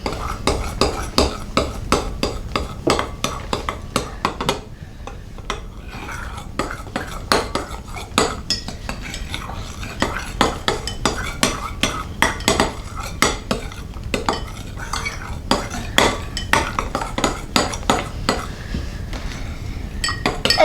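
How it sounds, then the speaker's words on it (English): A utensil stirs and scrapes fluffy slime with food colouring inside a bowl, making continuous clinking, tapping strokes at a brisk uneven rhythm, close and clear with no talking. "Now we're going to mix the food colouring in."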